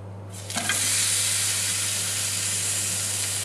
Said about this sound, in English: Just going to flash it back through the pan very quickly and then we'll serve it.